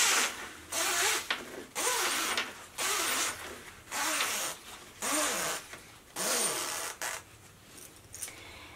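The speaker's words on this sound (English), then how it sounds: "you're going to zip both the pulls all the way down to the opposite end" A double slide zipper is run along its tape in about seven repeated zipping strokes, each a close, loud rasping burst with short pauses between, and no talking.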